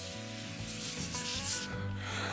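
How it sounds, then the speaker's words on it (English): Steady fizzing crackle of cleaning foam bubbling on a Honda Fury motorcycle, a continuous close hiss with faint popping texture throughout. "You can hear it snap, crackle, and popping because it's lifting the dirt up"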